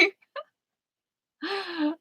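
A single sharp human sneeze bursts out close and loud at the start, followed by a brief catch of breath and then a voiced exclamation or gasp, with silence in between.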